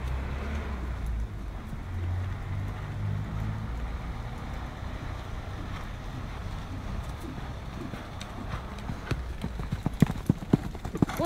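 A ridden horse trotting, its hooves clip-clopping in a steady rhythm across an outdoor arena, a little distant under wind noise, with the hoofbeats growing sharper and louder near the end.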